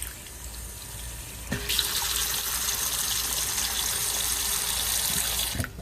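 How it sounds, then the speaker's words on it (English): Cold water gushes steadily from a tap into a sink while raw chicken is rinsed, a continuous close splashing rush that starts abruptly and stops at the end. "And then some cold water."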